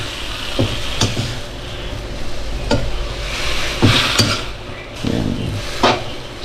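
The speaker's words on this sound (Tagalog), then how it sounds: "Saka natin halo-haluin." A soy sauce and vinegar dish is stirred in a pan, with a spoon knocking and scraping against the metal in irregular clacks over a steady low sizzle, close and fairly loud, with no talking.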